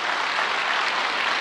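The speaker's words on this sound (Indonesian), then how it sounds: "Tepuk tangan dong buat Tuhan." A church congregation applauds at a sermon, a steady, dense wash of many hands clapping throughout with no voices on top.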